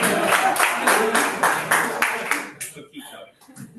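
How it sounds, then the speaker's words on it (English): An audience at a tech challenge information session claps in a string of rhythmic, close bursts for a couple of seconds before the clapping thins out into scattered murmurs and quiet. "give me a round of applause if you say,"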